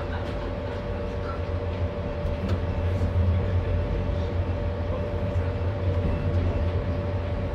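Zagreb Advent Express passenger train bound for Zagreb, running steadily with a continuous low rumble and rolling hum of the carriages, heard from inside the train with no talk over it.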